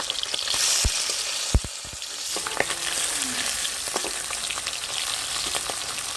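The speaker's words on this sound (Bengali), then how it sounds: "মাছগুলো উল্টিয়ে দিচ্ছি" Pabda river fish frying in hot mustard oil in a village kitchen, a steady close sizzle with a few sharp clinks and stirring scrapes early on, no talking.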